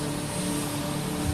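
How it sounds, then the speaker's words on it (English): Helicopter engine starting up with rotors engaging on a warship flight deck, a steady, loud broadband roar with a low drone throughout, no talking. "engine startup and rotor engagement"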